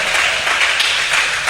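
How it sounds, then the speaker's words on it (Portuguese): A church congregation claps and applauds loudly and steadily during an afternoon worship service, a dense close wash of many hands with no voice over it. "Aplauda bem forte a palavra de Deus nessa tarde."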